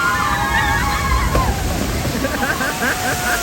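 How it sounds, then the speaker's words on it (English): Water surges and sloshes from a splash ride at Xetulul amusement park in Central America, a broad rushing wash heard from a short distance under excited voices and crowd chatter. "That was a splash."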